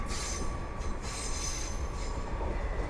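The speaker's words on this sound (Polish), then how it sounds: "A na horyzoncie widzę Express Intercity Premium." An Intercity Express Premium train at Warszawa Włochy keeps up a steady, loud rumble of rolling stock with high, shrill wheel squeal rising over it, continuous and close, with no voices.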